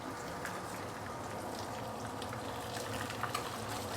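Very thick, huge fish frying in oil for a sweet and sour fish dish, a steady soft sizzling and bubbling hiss with occasional small pops, continuous and faint.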